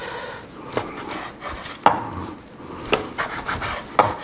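A big knife cuts through grilled carne asada steak on a board, with soft sawing rubs and three or four distinct knocks of the blade, close and alone.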